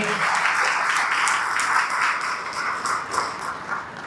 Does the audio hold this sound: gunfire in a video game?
no